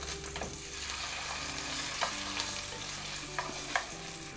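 A thick block of supermarket steak searing in a pan, putting out a continuous quiet crackling sizzle with a few soft scrapes and taps of a utensil, close and steady, without any talk.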